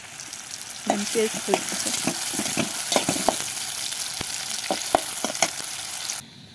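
Egg curry with green banana fries in a pan, giving off a loud, continuous sizzle broken by irregular knocks of a stirring spoon, until the sound cuts off near the end.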